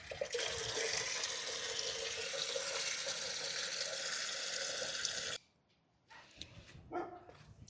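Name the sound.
filling a container with water to water plants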